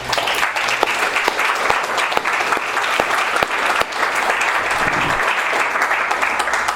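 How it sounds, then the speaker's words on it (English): Sustained audience applause for Gary at a step study meeting, a steady dense wash of clapping from a room of people filling the whole stretch without talk. "And one more round of applause for Gary."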